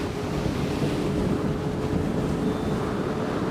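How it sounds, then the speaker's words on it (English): Strong wind gusting across a park and buffeting the microphone, a steady, loud, roaring rumble with no break, heard on its own. "it's so freaking windy, I can hardly hear myself talk"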